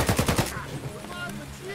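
Rapid automatic gunfire rattles in the shooter Escape from Tarkov on the Customs map, a quick burst of five or six close shots in the first half second, then a fading echo and low ambience.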